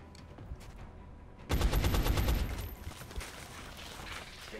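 Heavy gunner's automatic weapon fire in the video game XCOM: Enemy Unknown, a sustained loud burst of rapid shots lasting about a second and a half after a quieter lead-in, then trailing off into ambient game noise.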